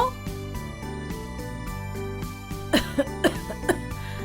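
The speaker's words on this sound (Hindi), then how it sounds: "आप इतना खांस क्यों रही हैं?" A woman coughs several times in short, sharp bursts near the end, over steady background music.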